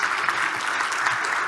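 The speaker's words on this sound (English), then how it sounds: "can we just give a round of applause for a really great conference?" Steady audience applause at a Node.js developer conference (NodeConf EU 2022), a dense even wash of many hands clapping together, moderately loud and sustained throughout with no talk over it.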